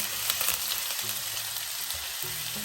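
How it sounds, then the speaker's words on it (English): Ginger and garlic frying gently in a pan for a Moroccan lamb tagine, a soft, steady sizzle with light crackles and faint stirring, with low background music. "Put the ginger and garlic over here and let it cook until it just get transparent."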